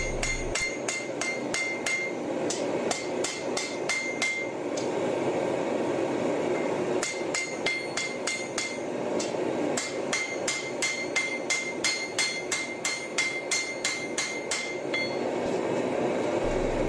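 Hammer forging the tang of a steel katana blade, giving it a rounded end: two long bursts of rapid, ringing metallic blows struck in steady rhythm, each run separated by a brief pause, loud and close in a forge.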